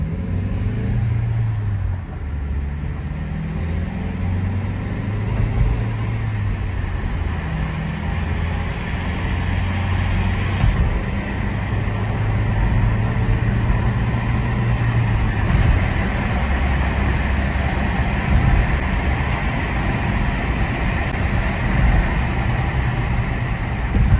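An Opel Astra with a damaged gearbox pulls away in first gear after the handbrake is released, a low steady engine drone at close range that rises gradually in loudness, with no voices.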